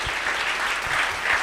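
A gathered congregation at a late-night Bible study claps briefly for someone, a quick, fairly loud burst of many hands with uneven pulses throughout.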